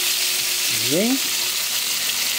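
Onion, tomato and pepper fry for a sauce with a loud, even sizzle that runs throughout, while a brief rising squeak cuts through partway.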